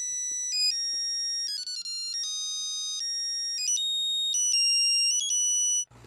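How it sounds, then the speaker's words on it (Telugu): A mobile phone rings in a Telugu film scene, a bright electronic melodic ringtone of stepped tones repeating loudly and clearly alone for several seconds before cutting off abruptly. "సార్ డార్లింగ్ గారు ఫోన్."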